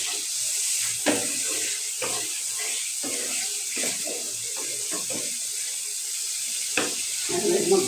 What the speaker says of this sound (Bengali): টমেটো দিয়ে দিলাম। এখন ভালো করে আমি নাড়াচাড়া করে নিব।